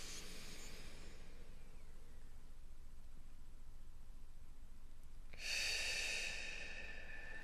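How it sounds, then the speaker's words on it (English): Deep breathing during meditation: a faint breath at the start, a long quiet pause, then a loud, close, airy exhale near the end, with no talking. "join me whenever I pause for a deep breath"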